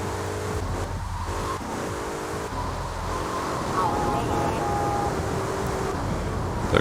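A car driven through Liberty City in GTA 3 on the way to Kenji's casino in Staunton, engine droning steadily throughout with a faint tonal whine midway, game music and voices layered underneath.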